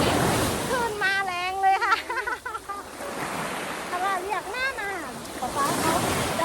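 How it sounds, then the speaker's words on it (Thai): Strong sea waves wash onto a Persian Gulf beach, a steady roar of surf and wind noise that swells at the start and end, with voices talking over it in the middle. "อุ้ยคลื่นก็มาแรงแรงนะลุงเนาะ"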